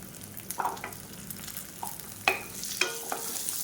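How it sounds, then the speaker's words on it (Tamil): About twenty small onions frying with garlic cloves in a pan, a soft continuous sizzle punctuated by several sharp scrapes and taps of a spoon as they are stirred, close up with no talking. "வெங்காயம் நல்லா தூள் வதங்கி வரணும் அந்த அளவுக்கு நல்லா வதக்கிடுவோம்"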